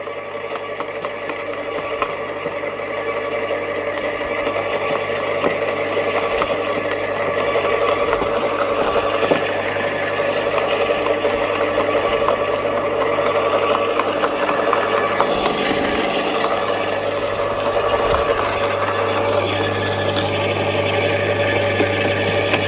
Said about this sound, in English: There we go, it's working, it's shredding up. It's quite quiet, isn't it really, considering?